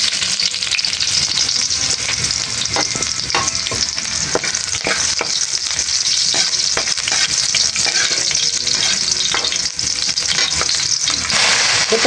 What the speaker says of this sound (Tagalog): Ako po ngayon ay nagigisa na po ng bawang.